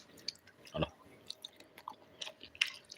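Someone eats fried chicken up close, with soft chewing and a few sharper bites in irregular bursts against a quiet background.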